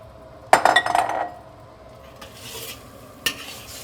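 Shrimp and egg stir-fried in a wok, a sharp metallic clatter and scrape against the pan followed by a short burst of sizzling, then a quieter hiss and another clink near the end.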